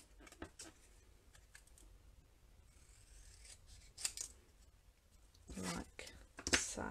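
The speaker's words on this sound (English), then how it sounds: "I'm just going to cut that into a" Scissors snip through gold heat-embossed paper, trimming a sentiment strip into a banner shape: a few quiet close cuts and rustles, with sharper snips toward the end, faint and intermittent.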